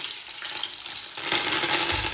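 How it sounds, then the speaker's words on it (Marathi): A paneer and peas vegetable dish frying in oil in a pan, making a broad hiss that grows louder and brighter partway through as more ingredients go in. "चालू आहे आता आमची पनीरची भाजी"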